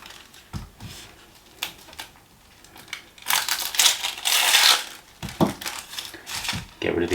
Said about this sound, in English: I'm going to peel it.